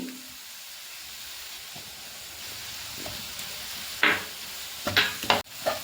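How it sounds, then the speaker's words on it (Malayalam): Sliced onions sautéing in a pan for a fish fry masala give a soft, low sizzle, broken by a few scraping stirs near the end. "നമുക്കിതെല്ലാം കൂടി നന്നായിട്ടൊന്ന് വഴറ്റിയെടുക്കാം"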